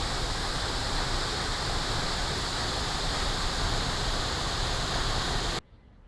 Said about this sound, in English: Another short drive off the main loop is Opa'ika'a Falls, so named by the Hawaiians because the water looks like jumping shrimp.